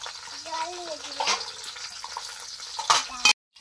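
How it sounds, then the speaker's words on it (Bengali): Water is poured into a pan of fried fish pieces with a rushing splash, while a voice speaks briefly over it; the sound cuts off abruptly. "জল দিয়ে দিলাম।"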